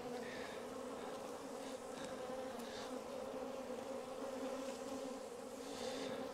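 Honey bees buzz around a capped brood frame lifted from a hive, a continuous low hum of many insects close by, steady and even throughout, with no voices.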